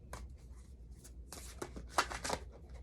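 Tarot cards being shuffled by hand, soft riffling swishes and light slaps in irregular bursts, quiet and close with no talking.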